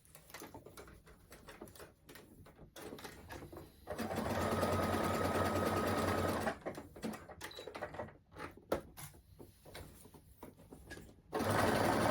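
A home sewing machine stitches a striped T-shirt sleeve onto the body, its motor whirring loudly in a steady burst before easing off, with quieter handling noises and pauses around it.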